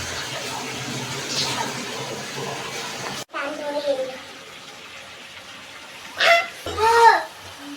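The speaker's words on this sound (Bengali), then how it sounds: "হাতটা ধুয়ে নেব।" Hands are rinsed under a running tap in a home kitchen during desi chicken cooking. A steady rush of water runs for a few seconds, then drops to a quieter trickle, followed by brief voice-like bursts near the end.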